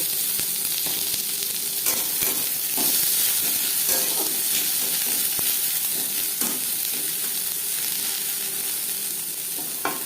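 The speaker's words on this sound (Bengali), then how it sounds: "এক চামচ মতো সরষে পেঁয়াজ ভেজে নেব" Mustard seeds and onion fry in hot oil in a home kitchen pan, giving a loud, continuous sizzle close up, broken by scattered crackles and pops with no talking.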